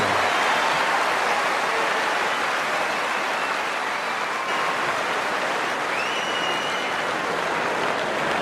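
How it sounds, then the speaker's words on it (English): A huge crowd at the 2008 Wimbledon men's final between Federer and Nadal roars and applauds in a continuous loud wash, with faint whistles rising above it. "that wasn't so much as of a cheer as an eruption"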